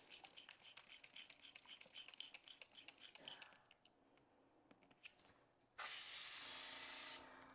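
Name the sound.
airbrush spraying while being cleaned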